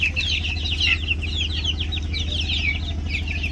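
Desi chickens clucking on a small home farm, a continuous chorus of close, busy clucks and chirps layered over a low steady hum, with no voices.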